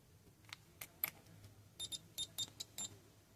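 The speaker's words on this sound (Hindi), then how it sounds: "ले जाएंगे हम इस प्रोब्स को, ले जाएंगे हम बीप बीप बीप।" A multimeter sounds a series of short electronic beeps during a continuity test with its probes: sparse single chirps first, then a quick run of evenly spaced beeps, close and clear over a quiet background.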